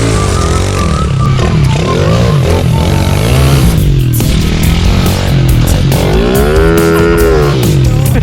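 Dirt bike engines rev hard at full throttle through an outdoor game of tag, their pitch climbing and sweeping continuously as the bikes accelerate and turn, loud and close throughout.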